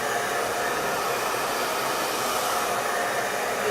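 A hair dryer blows steadily and close while hair is dried at the root with a brush, a constant loud whoosh with no voices.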